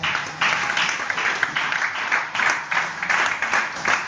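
A church congregation breaks into steady, loud applause that fills the room, with dense clapping and faint voices mixed in, continuing throughout.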